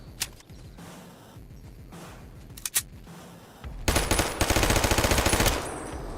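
Gunfire in the video game Fallout, with a few sharp single shots early on, then a loud sustained burst of rapid automatic fire near the end.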